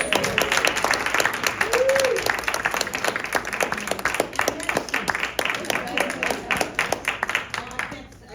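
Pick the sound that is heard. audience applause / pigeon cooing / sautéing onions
audience applause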